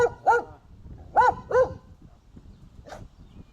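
A dog barks several times close by in short, uneven bursts, with pauses between them and a last softer yelp.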